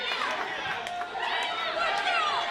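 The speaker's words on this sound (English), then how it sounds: "You hear the crowd here showing their displeasure with Myrick." A simulated arena crowd shows displeasure at a wrestler in the video game Wrestling Evolution Aggression, a steady wash of crowd voices and jeering that swells near the end.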